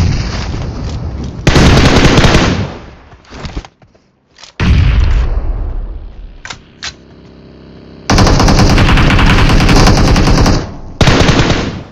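BGMI video-game gunfire: loud automatic bursts rattle in long volleys, broken by short gaps and a few heavy booming shots.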